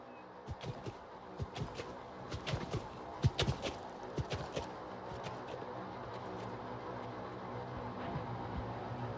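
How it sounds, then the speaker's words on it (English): Horse hooves clop in a quick, uneven run that is loudest early on, then fade into faint background noise. "Firing backwards from a galloping horse."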